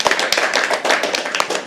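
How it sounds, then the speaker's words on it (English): Clapping from a small audience at a live poetry open mic night, steady and moderately close, with a few sharper individual claps standing out across the short burst. "Can we all please clap for them?"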